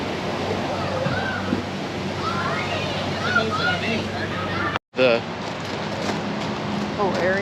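Water splashing at a splash pad in a Florida RV resort water park, a steady rushing wash with a brief break, while people talk and background voices murmur throughout.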